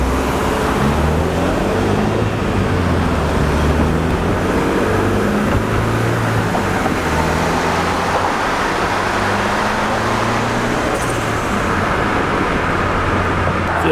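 A turbocharged Honda Civic prepped for big boost drives around the block, its steady engine drone and road rumble continuous and fairly loud from inside the car, with no talking.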